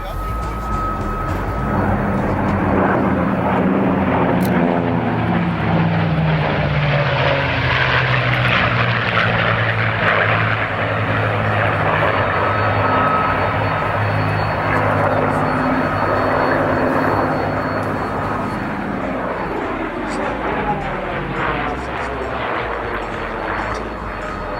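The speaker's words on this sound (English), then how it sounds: "Here they come in from the right, the Spitfire, the Mark 9, the North American Mustang, the P-51 and the Corsair." A Spitfire Mark 9, a North American P-51 Mustang and a Corsair fly past in formation, their propeller engines droning loudly and swelling as they approach, then fading slowly over about twenty-five seconds.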